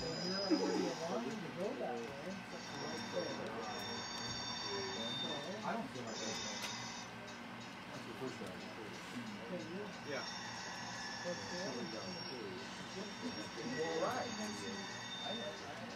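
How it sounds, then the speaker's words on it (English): A long BN freight train of loaded ore cars rolls past with a steady rumble and high metallic wheel squeals, while someone talks over the passing cars. "that ended up being a pretty long train of ore jennies"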